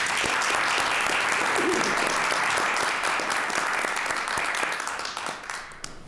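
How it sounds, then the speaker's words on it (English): A city council meeting audience applauds steadily for several seconds, a dense, even wash of many hands clapping that thins slightly toward the end. "I would like to give you a round of applause"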